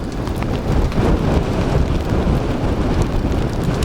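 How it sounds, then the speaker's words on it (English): Rain falling during a thunderstorm near Limon, Colorado, with tornadic storms nearby; steady, dense patter and hiss close by with low rumbling underneath, no talking. "It's raining on our location."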